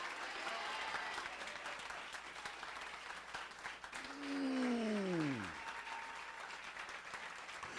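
A church congregation applauding during a worship service, dense steady clapping throughout, with a gliding tone that sweeps downward near the middle.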